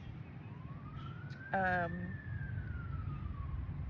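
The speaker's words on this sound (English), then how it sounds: "there goes the sirens to confirm." A wailing emergency siren rises and falls in the distance, faint and steady over low background rumble, while a person briefly hums a hesitant sound partway through.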